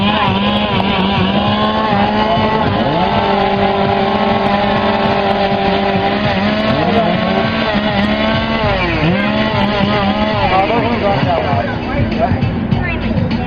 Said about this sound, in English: I know these guys would like to warm up their chainsaws, so let's give them a pull